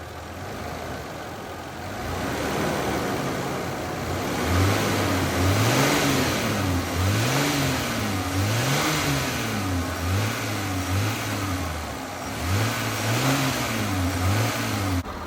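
A Toyota FZJ80 Land Cruiser with a 1FZ-FE engine idles and then revs repeatedly, the engine note rising and falling in a series of smooth blips, heard nearby and outdoors with no talk.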